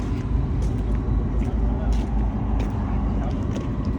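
A GTI car engine runs at idle outdoors at night, a low steady rumble close by with faint background traffic and some chatter.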